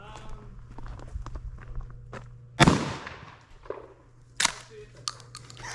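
A shotgun fired outdoors lets out one loud, sharp blast partway through, followed later by a shorter second crack. Faint footsteps and rustling movement sit in between, with no talking.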